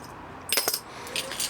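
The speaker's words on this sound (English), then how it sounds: "and you also get 3 keys" Keys from an Enfield garage door bolt set clink together in a few light metallic jingles, handled close by in an otherwise quiet room.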